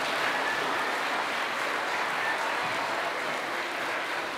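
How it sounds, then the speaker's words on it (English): An audience at a Catholic school Christmas concert applauds the student performers with steady, dense clapping that holds at an even level throughout, with no talking over it. "Let's give a big round of applause to all the students at St. Bernard."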